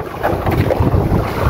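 Sea waves slosh and splash around a fishing boat on open water, a loud, steady wash with wind buffeting the microphone and no voices.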